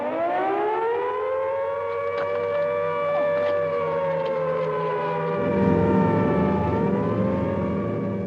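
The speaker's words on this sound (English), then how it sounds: "at about 10 o'clock, the first siren sounded" An air-raid siren wails over wartime Dresden on a February night before a bombing raid, a sustained rising and falling tone with rich harmonics, loud and steady, with a low rumbling hum swelling toward the end.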